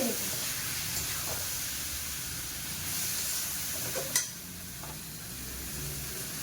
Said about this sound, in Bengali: মশলার সঙ্গে আলু ভালো করে কষানো হয়ে গেছে মশলাটা পুরো তেল ছেড়ে দিয়েছে